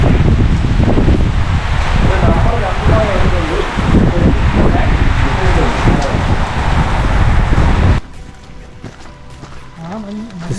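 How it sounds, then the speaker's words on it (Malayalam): Strong wind and heavy rain batter a hilltop viewpoint at Kaalimala near Trivandrum in Kerala. A loud, roaring gust buffets the microphone for about eight seconds, then drops away sharply, and a voice talks through it. "അടിപൊളി മഴയും ഭയങ്കര മഴയും കാറ്റും ഒക്കെ ആയിട്ട് ഒരു രക്ഷയില്ലാത്ത ഒരു ആംബിയൻസ് ആണ് ഇപ്പോൾ ഇവിടെ."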